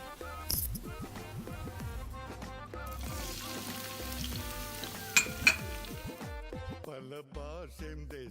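Onions sautéing in hot coconut oil in a pan for Kochi-style beef ularthiyathu: a soft sizzle with occasional utensil clinks, sitting under louder background music.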